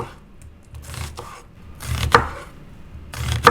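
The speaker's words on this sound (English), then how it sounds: "So by thinly slicing the onion" A knife thinly slices a red onion on a wooden board, giving a few close, dry cutting and scraping strokes in irregular bursts with quiet gaps between them.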